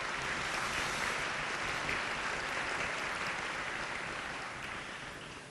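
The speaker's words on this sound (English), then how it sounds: "I think that deserves a round of applause" An audience gives a sustained round of applause at a benefit event, dense clapping held steady for several seconds before starting to taper off near the end.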